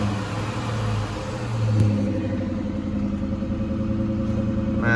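A Nissan car engine runs at a salvage auction lot in Houston, a close, steady droning hum with a slight rise in revs and a faint tonal whine.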